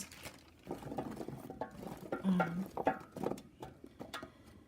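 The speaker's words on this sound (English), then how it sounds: "I'm going to throw in a pack of carrots" A pack of carrots tumbles into a turkey roasting pan, a close run of soft thuds and patters with a few light knocks against the pan before it settles.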